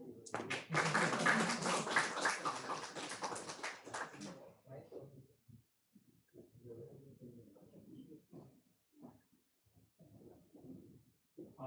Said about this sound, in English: Once again, clap for these all panelists